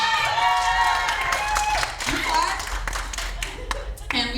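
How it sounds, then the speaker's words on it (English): Audience applause and clapping at a live event rise under a speaker's amplified voice, with scattered claps continuing as the talking goes on. "give yourself a round of applause"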